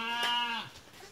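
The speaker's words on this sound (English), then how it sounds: "Try your best not to get chased by, you know, groups of sheep." A single sheep or goat bleat, a loud harmonic wavering cry lasting under a second, close by and fading into quiet outdoor background.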